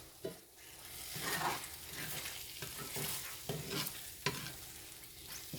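A potato hamburger casserole mixture stirred in a pan, with a quiet ongoing sizzle and rhythmic scraping and clinking of the utensil against the pan, heard alone without speech.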